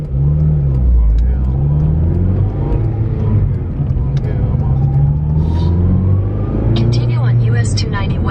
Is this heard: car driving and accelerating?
yes